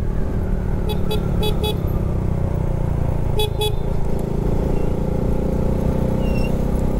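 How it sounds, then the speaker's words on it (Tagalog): A steady motorcycle engine roar on a winding road, with a few short horn toots partway through. "Narinig niya ata yung motor ko. Ganun ba to kaingay?"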